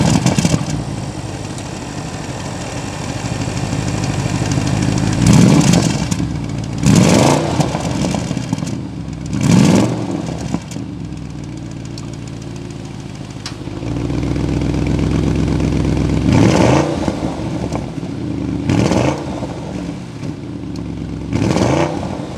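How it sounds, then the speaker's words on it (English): Audi RS Q8 4.0-liter twin-turbo V8 exhaust, a deep, loud idle punctuated by repeated sharp throttle blips and revs, close up and alone with no talking. "hear that exhaust note."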